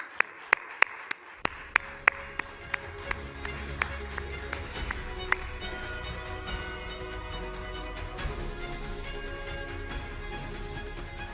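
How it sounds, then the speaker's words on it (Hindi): Audience applause welcoming Union road transport minister Nitin Gadkari onto a stage, opening with a few sharp separate claps that swell into steady, moderately loud clapping throughout. "जोरदार तालियों से स्वागत करें।"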